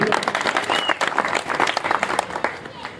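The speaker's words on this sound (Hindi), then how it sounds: "उनके लिए जोरदार अभिनंदन और ताली होनी चाहिए" A crowd claps loudly at a political welcome gathering in a neighbourhood, sustained applause with voices and cheering mixed through it.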